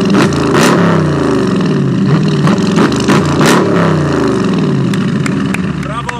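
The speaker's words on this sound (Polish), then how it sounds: "Brawo dla tego człowieka, który wymyślił V8-kę, która brzmi jak potwór!" A loud engine revving hard, its deep exhaust roar rising and falling in repeated surges, with a person talking over it.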